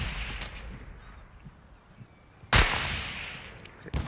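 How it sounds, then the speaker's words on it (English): Gunfire in Call of Duty: Modern Warfare II, a few scattered shots with one loud, sharp blast partway through followed by a lingering tail, over quiet in-game background noise. "Okay, somebody shooting me."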